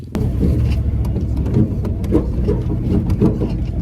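A Ford OBS pickup truck drives through mud, its engine loud and close with a rumbling drone and bursts of revving as the tires spin, and no talk.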